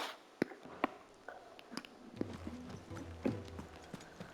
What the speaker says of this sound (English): Felizmente ele teve a ajuda de seu belo e fiel cavalo.